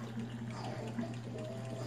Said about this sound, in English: Fill your pot with water.